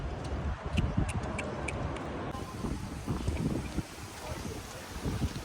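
Strong gusty wind outdoors in Monaco buffets the microphone in low, rumbling surges with a faint ticking underneath; the gusts rise and fall across the few seconds.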